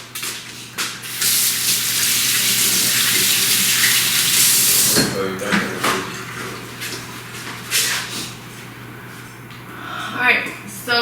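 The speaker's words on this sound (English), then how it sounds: "Let me rinse off my hands." A kitchen tap runs hard as hands are rinsed, a steady gushing stream for about five seconds before it cuts off, followed by small clatters and scattered drips.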